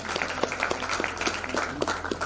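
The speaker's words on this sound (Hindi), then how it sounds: "एक बार जोरदार तालियां बच्चे के लिए" An audience at a stage performance in Prayagraj claps with a dense, continuous patter of hands at steady loudness throughout the brief stretch.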